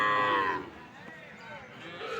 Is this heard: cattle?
yes